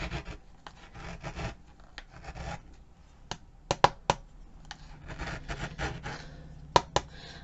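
Glitter being scraped off a Dollar Tree craft calendar at a desk, a close, dry rasping scratch in repeated strokes with sharp clicks of the tool, no talking.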